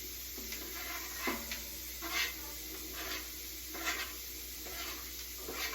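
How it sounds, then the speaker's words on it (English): Steady sizzling of garlic frying in a pan, with periodic louder bursts as it is stirred, close and continuous. "Listen to that sizzle."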